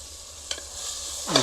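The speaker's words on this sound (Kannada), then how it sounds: "ಇದು ಕಾಯಿ ಮೆಣಸು ಏನಿದೆ ಇದು ಹಾಕ್ಬಿಟ್ಟು ಮತ್ತೆ ಫ್ರೈ ಮಾಡಬೇಕಾಗತ್ತೆ" Tomato, green chilli and curry leaves being stirred in hot oil for prawn biryani, a soft steady sizzle with a couple of light utensil scrapes and a rising hiss as ingredients hit the pan.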